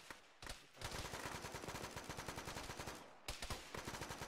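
Automatic gunfire pours from bunkers in an Arma combat game during a ShackTac assault: long, rapid, sharp bursts of machine-gun fire, fairly close, with a brief pause before another volley starts.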